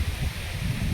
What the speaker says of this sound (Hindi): इस पीपल को देख के देखो कितनी तेज़ हवा चल रही है